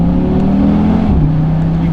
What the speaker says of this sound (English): you can still hear that 5-cylinder.